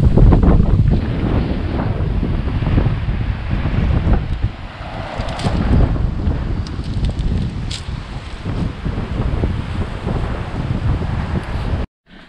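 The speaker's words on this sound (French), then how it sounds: "Le vent vient de l'autre côté." Strong wind buffeting around a parked camper van, a steady loud rushing roar with gusts and rumbling microphone wind noise throughout, no talk.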